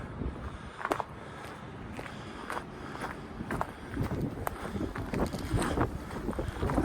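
Wind gusts buffet an outdoor microphone on a hot day at Port Clinton, Pennsylvania, beside the old Schuylkill Navigation canal, a steady rumbling roar swelling and easing with sharp gust thumps and a few footsteps.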